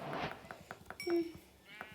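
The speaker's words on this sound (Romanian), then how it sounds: "Câte oi!" Sheep bleating in Minecraft, a few short, wavering bleats close by over quick rhythmic taps of footsteps or clicks in the game.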